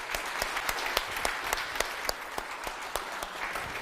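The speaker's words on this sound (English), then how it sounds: "could you give a round of applause to Aaron and Peter for putting this whole thing together?" Scattered, fairly faint clapping from a conference audience, individual claps clearly separated in an uneven rhythm.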